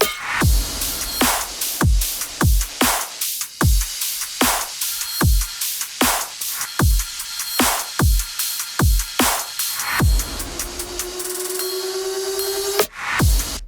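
A punchy electronic dubstep drum loop of heavy kicks and sharp snare hits in a steady rhythm, loud and close, ending with a rising synth tone and final hit.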